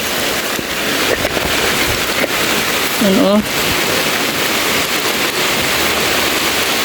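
Heavy rain pours down in a dense, constant roar, and a single short spoken word cuts briefly through the downpour.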